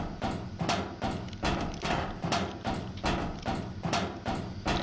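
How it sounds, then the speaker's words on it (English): Loud, heavy footsteps climbing a ladder in The Stanley Parable, a steady run of close, thudding steps at a regular rhythm, about two per second, with no talking. "And loud footsteps."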